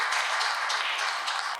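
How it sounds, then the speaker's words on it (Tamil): Audience at a New Year special pattimandram debate stage event applauds a speaker, a steady wash of clapping from many hands with no voices over it. "நல்ல ஒரு பெரிய கைத்தட்டல் அவங்களுக்கு தாங்க"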